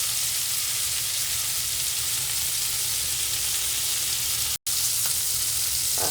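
Scallops searing in a hot pan with lemon juice, a loud steady sizzle and crackle that fills the whole stretch apart from one brief dropout near the end, close and without speech.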